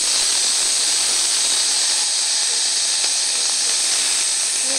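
A steak sizzles in a hot pan, giving a loud, continuous hiss that stays close and even from start to finish.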